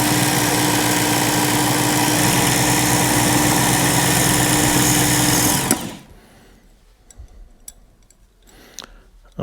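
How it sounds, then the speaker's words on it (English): An electric knife sharpener grinds a fishing hook with a loud, steady high whine and buzz for about six seconds, then stops abruptly, leaving faint handling clicks and taps. "And I'm not squeezing the trigger all the way on the knife sharpener either."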